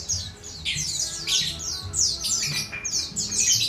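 White-eye (pleci) birds from Pacitan chirp busily, a group of about eight caged birds giving rapid overlapping high squeaky calls and short tweets in a steady chorus, close and fairly loud, with faint low background rumble.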